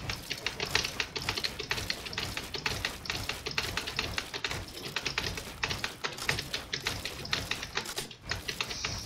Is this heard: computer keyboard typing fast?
yes